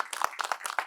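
An audience applauds a film's editing team, a short burst of clustered hand claps in uneven bunches, moderately loud and close.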